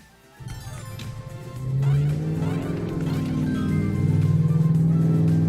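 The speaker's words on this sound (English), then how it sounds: "And loud cars in the background." Loud engine revving up in rising, roaring pulses, a car accelerating nearby with a deep growling tone that builds and holds.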